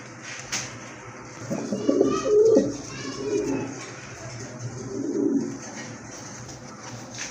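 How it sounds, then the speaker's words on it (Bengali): Four pigeons of a fancy breed cooing nearby in soft, low, repeated rolling phrases that swell and fade in two bouts over a quiet background, with no speech. "এখানে কিন্তু চার পিস কবুতর আছে খুবই সুন্দর কোয়ালিটি ফুল দেখার মতো চার পিস কবুতর"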